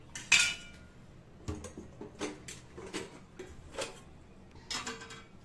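Steel dishes, pots and cutlery clank and clink in a home kitchen during cleanup, a series of separate sharp knocks and rattles spaced a second or so apart, close by with no speech.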